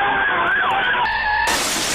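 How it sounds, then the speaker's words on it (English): Wailing fire truck sirens in a Roblox game, a sweeping electronic tone that rises and falls, then holds steady pitches. It sits over a noisy, skidding engine rumble, loud and close. "Whoa, there's fire trucks?"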